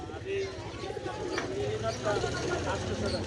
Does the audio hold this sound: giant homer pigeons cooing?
yes